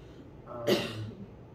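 A single sharp sneeze bursts out once during a quiet university physics lecture, brief and moderately loud before the room settles.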